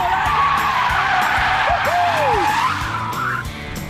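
BMW M5 with a 400 brake horsepower V8 slides in a judged drifting contest, its tires squealing and skidding with rising and falling pitch over a steady engine roar for several seconds.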